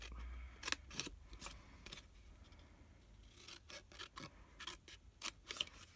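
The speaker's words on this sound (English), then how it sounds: "we're going to cut that through the first score line up to the second" Scissors snip through thin card along a score line while making a small treat box, a series of short, crisp cuts at an irregular rhythm, close and fairly quiet with no talking.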